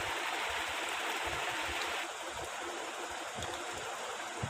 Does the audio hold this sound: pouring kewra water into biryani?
yes